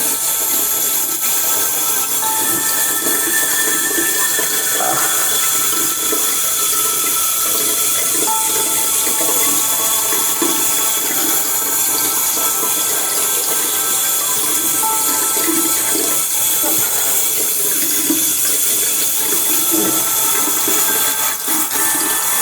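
Warm tap water runs steadily from a faucet, a loud, unbroken rushing wash that continues throughout with faint knocks and clatter underneath.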